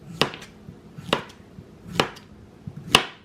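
A knife slices yellow squash on a cutting board, four crisp evenly spaced cuts roughly a second apart, each with a sharp tap of the blade on the board.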